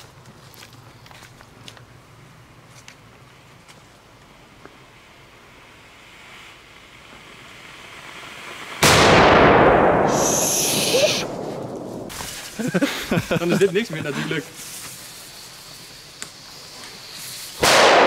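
Polish market firecrackers, one large 50-gram banger among them, go off outdoors: a single loud sharp blast rings out and fades, followed by crackling bursts and a later bang, with brief talk earlier.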